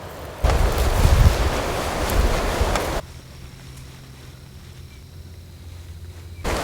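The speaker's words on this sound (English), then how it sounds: "The wind's between 20 and 30 miles per hour today. It is gnarly." Strong 20 to 30 mph wind on open public land, roaring as heavy buffeting rumble against the microphone for a few seconds, then dropping to a quieter steady rush before gusting again at the end; no one speaks.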